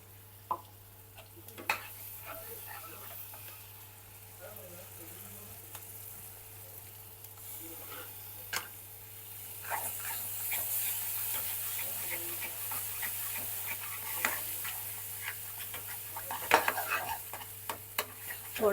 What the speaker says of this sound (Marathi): थोडंसं आपण आता ते थोडंसं भाजून घेऊ, म्हणजे प्रॉपर तेलामध्ये